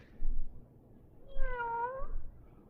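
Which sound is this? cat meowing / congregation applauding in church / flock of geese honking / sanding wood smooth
cat meowing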